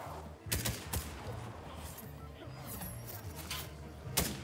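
Gunfire crackles through a Fortnite match in sharp repeated shots, some overlapping into bursts, over a constant background of game music and effects.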